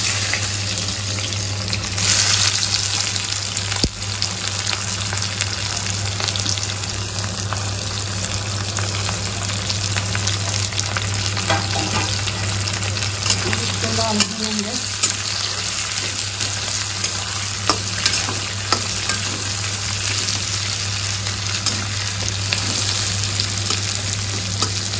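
Onions fry in a pan with a continuous dense hiss and crackle over a steady low hum, broken by occasional faint clinks, close and unchanging throughout.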